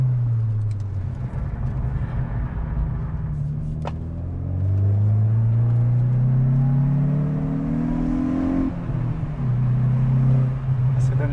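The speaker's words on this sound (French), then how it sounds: "Le rev matching." Hyundai i20 N engine revs climb under acceleration, then a quick rev-matching blip and drop as the car downshifts, the revs settling again; heard from inside the cabin, continuous and fairly loud.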